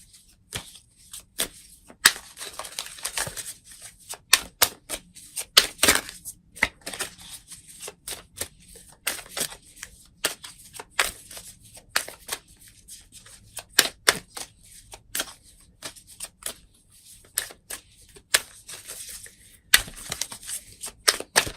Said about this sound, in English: let me get to our Denise Linn Sacred Traveler Oracle cards